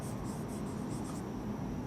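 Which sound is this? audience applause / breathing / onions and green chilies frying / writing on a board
writing on a board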